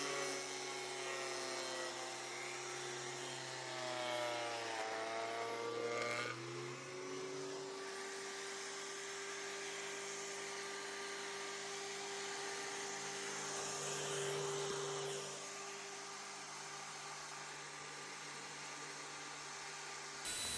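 A thickness planer cleans up boards in a wood shop with a loud, sustained motor whine and steady roar. The pitch dips and shifts as each board feeds through, then settles into a constant hum.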